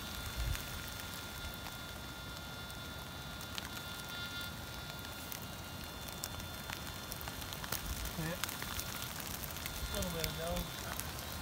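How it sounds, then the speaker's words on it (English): Heavy rain pours outdoors on a metal-detecting outing, a dense, steady hiss of drops pattering and crackling close to the microphone, with faint voice-like sounds near the end. "Pissing down rain."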